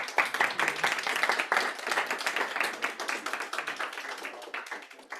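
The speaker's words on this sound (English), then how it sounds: "round of applause for Tyson." An audience at a conference on English schools in Japan applauds a presenter named Tyson: dense, continuous clapping from many hands, loud at first and tapering slightly toward the end.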